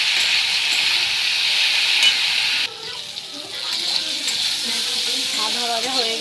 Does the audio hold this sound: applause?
no